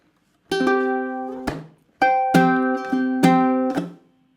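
Ukulele chords strummed down and up, each pattern cut short by a muted percussive chop, repeated a few times clearly and alone.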